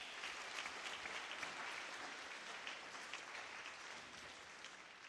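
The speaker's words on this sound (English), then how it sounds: "Another round of applause to that" Steady audience applause fills the whole stretch at a moderate, even level, a dense clatter of many hands with no voices rising above it.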